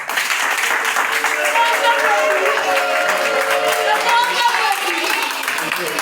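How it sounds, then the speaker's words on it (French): An audience at a football club's speech event applauds steadily and fairly loudly, with voices calling out over the continuous clapping throughout. "Je vais commencer par vous demander d'applaudir pour votre président."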